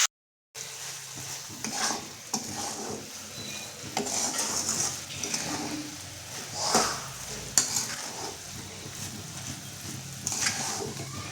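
Spoon stirring sugar as it dissolves in a pan, repeated scraping strokes against the metal with a soft sizzle, close and steady over several seconds after a brief silent start.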